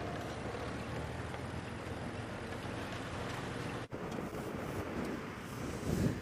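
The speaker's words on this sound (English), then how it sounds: "It is blowing up with something of a gale from the northwest now" A strong northwest gale roars across open country during an evening safari drive, a steady, dense buffeting rush close to the microphone that cuts out for an instant before returning with gusts.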